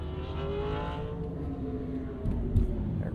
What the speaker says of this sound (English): Our race cars passing under us.